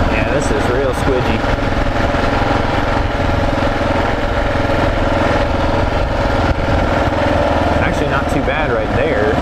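Kawasaki KLR 650 motorcycle on 80/20 street tires ploughing through deep sand, its engine droning steadily and loudly up close under wind rush, with a rider talking over it throughout.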